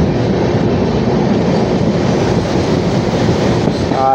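An express train running at speed past stations on the line toward Malda produces a loud, steady low rumble and rushing roar with faint rhythmic wheel clatter, heard close and unbroken with no talk.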